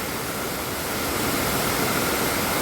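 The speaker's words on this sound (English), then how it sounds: "This is the real waterfall." Water thunders down at the Hat Yai waterfall in Thailand, a dense, loud, constant rushing roar filling the whole clip with no talking.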